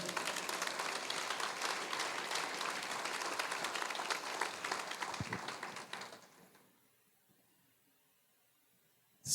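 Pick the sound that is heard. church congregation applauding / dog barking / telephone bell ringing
church congregation applauding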